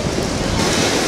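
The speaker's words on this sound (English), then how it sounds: "Man, these waves are coming in." Ocean surf crashing and rushing onto a beach, a loud, continuous broadband wash of breaking waves with steady wind noise buffeting the microphone throughout.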